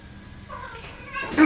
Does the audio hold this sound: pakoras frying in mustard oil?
no